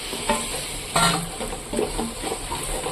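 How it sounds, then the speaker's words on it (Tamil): Chopped tomatoes are added to a frying pan while chicken biryani cooks, sizzling steadily under a few scraping stirs and light clinks of a spoon against the pan. "இப்போ கட் பண்ணி வச்சு தக்காளி போட்டுக்கணும்"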